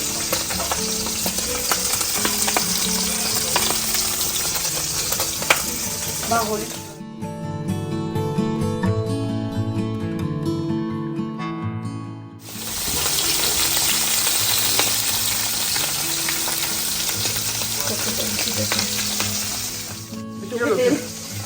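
Pabda fish frying in hot oil at home, a loud continuous sizzle with sharp spitting pops of splattering oil, close up; the sizzle drops out briefly midway while music plays, then returns.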